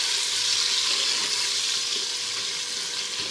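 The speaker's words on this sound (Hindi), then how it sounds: "हल्का सा हम प्याज को गोल्डन करेंगे" Finely chopped onion frying in a karahi for beef karahi masala gives off a steady, close hiss of sizzling oil without a break.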